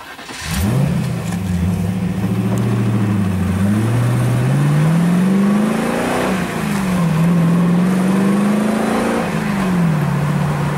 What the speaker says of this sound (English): today we're driving the extremely rare HMC Healey